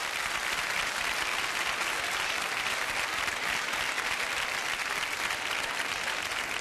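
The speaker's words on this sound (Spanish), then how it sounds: "Aplausos para el primer desafío." Studio audience on a Spanish TV game show breaking into continuous, even applause, a dense uniform clapping texture that holds steady at moderate loudness for the whole stretch.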